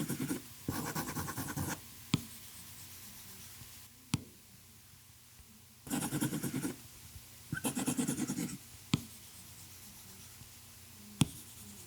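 An Apple Pencil draws on the nano-texture glass display of an M4 iPad Pro, giving soft scratchy strokes in short bursts separated by pauses, with sharp taps of the tip between them, quiet and close.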